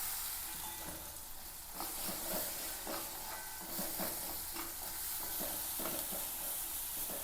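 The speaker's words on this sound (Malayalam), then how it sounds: "അല്പം ചെമ്മീനിട്ട് കൊടുക്കാം." Prawns fry in a pan with a soft, steady sizzle while a utensil stirs them, making repeated light scraping strokes. The sound is quiet and close.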